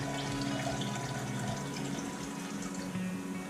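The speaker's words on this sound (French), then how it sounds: "donc on va verser le jus d'ananas" Pineapple juice poured into a glass for a cocktail, a steady continuous splashing pour that runs close and fairly loud from start to end, with no talking over it.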